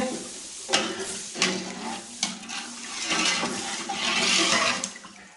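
Water pouring into a pot of soaked raw basmati rice for matar pulao, a splashing, gurgling stream in uneven bursts, close and fairly loud with no talk.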